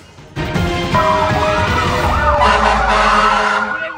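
A wailing fire truck siren rises and falls over steady traffic rumble on a Manila street, loud and close, continuing throughout.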